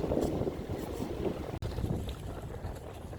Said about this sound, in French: à part un fort vent qui s'engouffre quand même dans l'écluse là, vent arrière.